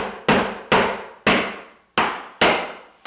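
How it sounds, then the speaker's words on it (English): Hammer driving nails into the starter course of slate wall cladding, five sharp, loud, ringing blows about half a second apart, each decaying before the next, with no talking. "we're nailing our starter course along prior to putting on our first course"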